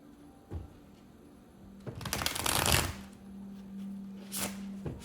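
Tarot cards shuffled by hand in a quick riffle burst, louder in the middle, with a few lighter card flicks around it under a steady low hum; no one speaks.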